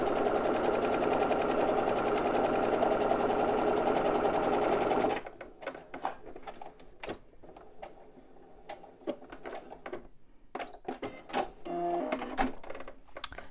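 A sewing machine stitches a fabric bum bag in a loud, fast, steady run for about five seconds, then stops, leaving scattered handling clicks and rustles.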